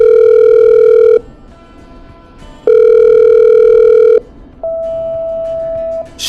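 Telephone call being patched through in the video game Killer Frequency: two long steady ringback tones separated by silence, then a lower sustained tone, loud and clean with no talking.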